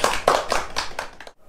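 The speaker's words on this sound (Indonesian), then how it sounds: "Tepuk tangan untuk kita semua ibu-ibu" A group of women clapping in rhythmic bursts during a community family-development meeting, a short patterned hand-clap routine, close and fairly loud, ending abruptly.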